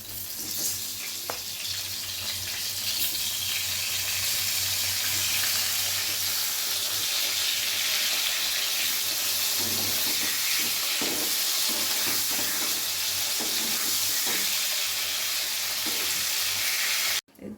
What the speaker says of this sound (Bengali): বন্ধুরা আমি তেল আর একটু তেল দিয়ে আলুগুলো ভাজতে দিচ্ছি